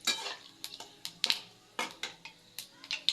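Whole cumin and garam masala stirred in hot oil in a pan: a spoon scrapes and clinks against the pan in irregular strokes over a faint, steady sizzle, close and fairly quiet.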